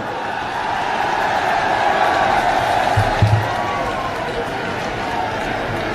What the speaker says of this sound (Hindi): जोरदार ताली बजाकर स्वागत करें